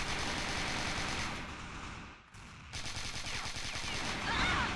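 Rapid repeated gunfire in the CrossFire video game, dense fast-paced shots with a brief lull in the middle before firing resumes loud and continuous.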